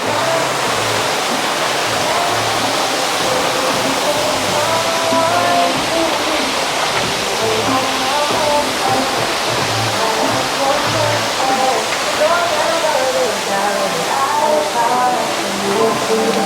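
Steady rushing water from a small waterfall at a dayclub in Bali, a continuous even splash filling the space with no breaks.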